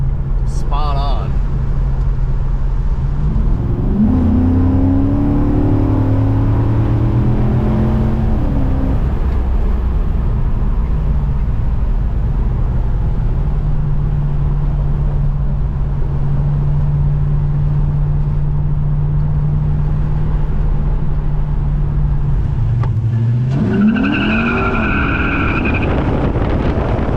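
A 1968 Dodge Charger V8 idles with a deep steady rumble, then revs up and settles back, with another rise near the end; someone talks over the engine throughout.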